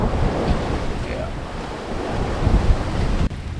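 Ocean waves wash steadily at sea from a sailing boat heading for the Bahamas at dawn, a continuous broad hiss and rumble with wind buffeting the microphone throughout.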